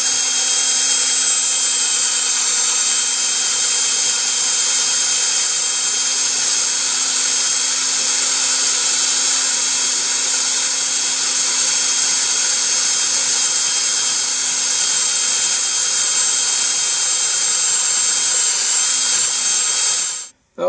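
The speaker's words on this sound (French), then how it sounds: "Et je vais maintenant percer des trous." A small drill bit bores drainage holes in an air conditioner unit, a loud, close, steady high-pitched whine held continuously for about twenty seconds before stopping abruptly.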